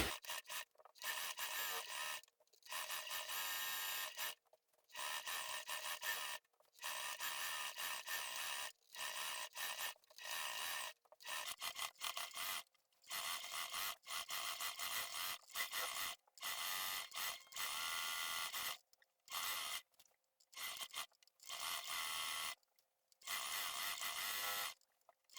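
A sewing machine stitches the side seams of a sleeveless pencil dress, running in close, steady bursts of buzzing stitches broken by frequent short stops over about 25 seconds.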